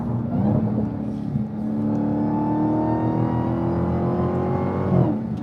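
A supercharged 2022 Dodge Challenger SRT Jailbreak engine revs hard, a loud, sustained mechanical roar with a rising whine, close by with no talking.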